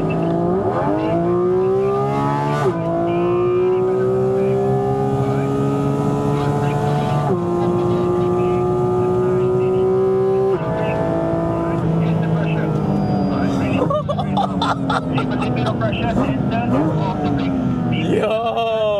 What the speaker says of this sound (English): Bunyi intake tu start, buka, kau boleh dengar kat telinga kau.